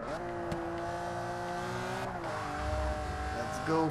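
Ferrari Enzo raced on track in Forza Motorsport, a loud steady engine roar with harmonic whine shifting pitch as it revs and accelerates, a tire squeal at the end, talk faintly underneath.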